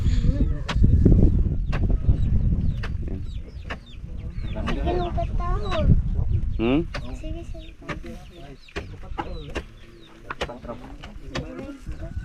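Chickens cluck and squawk close by amid farmyard noise, with a person murmuring briefly in the background.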